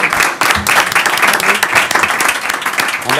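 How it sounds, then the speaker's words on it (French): At a municipal council meeting, attendees break into a short, lively round of hand clapping, loud and close, with uneven bursts of claps throughout. "Je pense que ça mérite une bonne main d'applaudissements."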